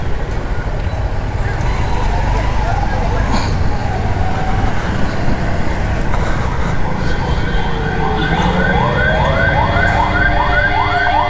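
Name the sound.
ambulance siren in traffic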